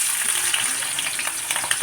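Shallots and green chillies sizzle in hot ghee in a pan, a steady, close crackling hiss with occasional stirring, and no talk.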